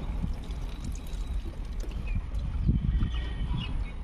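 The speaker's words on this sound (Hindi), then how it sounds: "ठीक है। हल्का हल्का पानी दीजिए," Water is poured lightly onto soil in pots holding gladiolus bulbs, a soft continuous splashing trickle close to the microphone.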